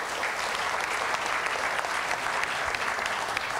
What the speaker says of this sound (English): Again, big applause to the speakers.